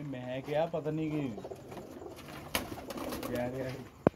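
Pigeons cooing in soft, wavering bursts near the start, with a voice talking and scattered taps and rustles, then a sharp click at the end.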